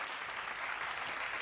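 A crowd claps in a steady, dense round of applause, loud and unbroken for the whole short moment, with no voice rising above it.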